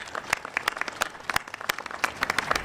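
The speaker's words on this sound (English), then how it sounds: "So I would love to give them a huge round of applause." Audience applause at a civic event in Denver, a burst of sharp, uneven hand claps filling the room at moderate loudness, steady throughout with no voices over it.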